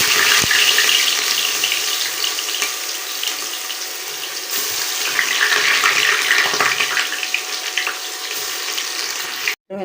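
Chopped onion and fenugreek seeds hit hot oil, giving a loud, steady sizzle close up that crackles continuously for nearly ten seconds before a sudden drop at the end.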